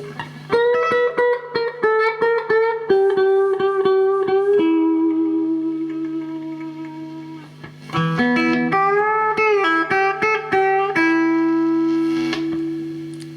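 Clean electric cigar box guitar chords ring out through a clean amp channel with strummed, sustained harmonics, pausing to let notes decay before another run of chords, played alone without distortion.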